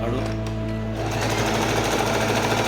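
A Singer Heavy Duty 4423 sewing machine stitches in a steady, loud mechanical whir with rapid needle chatter, close by, a person speaking over it at the start.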